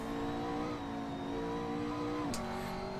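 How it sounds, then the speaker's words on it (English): McLaren 650S GT3 race car driving around Silverstone in Assetto Corsa: a steady, fairly quiet engine drone holding a sustained pitch, with a brief shift in tone and a short sharp whine near the end. "Driving the Mclaren 650s GT3 around Silverstone on Assetto Corsa"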